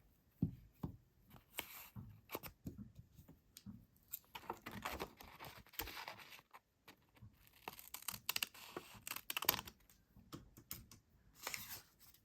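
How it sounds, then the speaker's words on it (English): Scissors snip through a sheet of blue paper in a quiet crafting setting, a run of short, crisp cuts and crinkles coming in irregular bursts close to the microphone with no talking. "and then I can cut."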